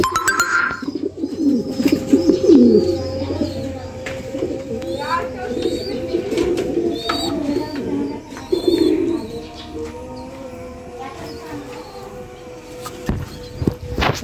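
Pigeons coo in a lit pigeon house, a mix of steady, close calls and occasional chirps and wing flaps, while a person talks over them for much of the time.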